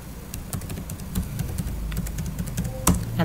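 A password typed on a computer keyboard, a quick run of sharp, uneven key clicks close by, ending in a firmer tap, with no talk.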